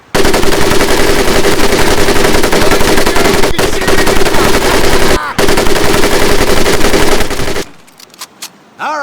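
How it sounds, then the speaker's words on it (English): An M1919A4 .30 caliber machine gun in a Pacific war video game fires loud, continuous bursts for about seven seconds, with one or two brief pauses. The firing then cuts off to quieter game ambience. "M1919A4 30 caliber machine gun."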